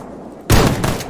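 A single loud gunshot in the video game Stalker GAMMA, a sharp close blast with a short ringing tail and no talking.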